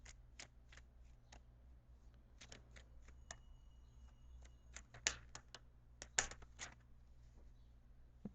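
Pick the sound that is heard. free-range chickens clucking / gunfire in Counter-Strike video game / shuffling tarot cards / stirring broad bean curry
shuffling tarot cards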